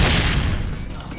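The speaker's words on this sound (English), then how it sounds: "I didn't know how a flashbang works" A flashbang grenade detonates in the tactical police shooter SWAT 4, a loud, broad blast that fills the moment and then decays into a roaring, ringing tail over about a second.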